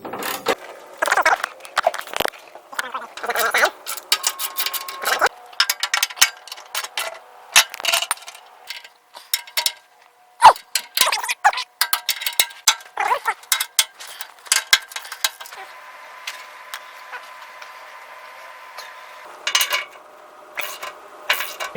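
Bolts being snugged down on a new rear base bumper on a Toyota 100 Series Land Cruiser: rapid clicking ratchet and metallic mechanism sounds in bursts, near and fairly loud, with a steadier whirring stretch toward the end.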